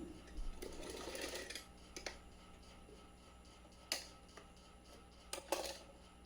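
A sewing machine runs a short burst of stitching as strips of lace are joined for a small dhoti, followed by a few sharp clicks and taps of handling, quiet and close.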